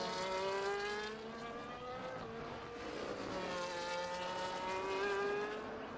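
Williams race car engine in a racing video game at the Red Bull Ring, a steady high-revving whine with rising and falling gear pitch, mid-distance and moderately loud, continuing without voices.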